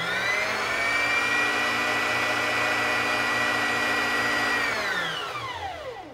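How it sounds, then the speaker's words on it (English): A Singer Classic 44S sewing machine motor whirs steadily while winding a bobbin, a sustained mechanical hum that holds level for several seconds, then winds down and fades as the pedal is released. "and the bobbin will start spinning and winding."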